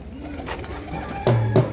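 Pigeons kept by a breeder give a soft low coo, followed by two louder, closer coos near the end over faint background noise.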